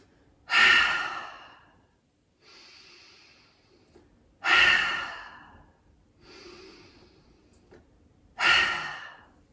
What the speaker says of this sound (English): we'll finish with 3 really big breaths. In through the nose, out through the mouth